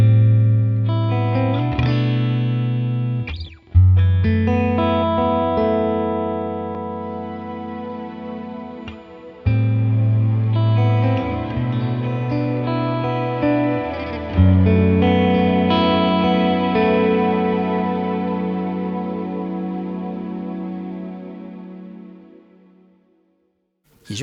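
A Strymon Cloudburst reverb pedal wraps sustained guitar notes in a vast, shimmering ambient wash, several swelling chords ringing out and blooming into long glassy tails before fading to near silence.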